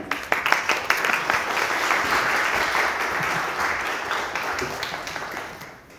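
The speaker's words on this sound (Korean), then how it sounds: "여러분 박수로 환영해 주시기 바랍니다." Applause welcoming a young pastor to the stage at a Korean church talk, warm sustained clapping from a crowd that starts with sharp claps, swells into a steady wash, then fades away.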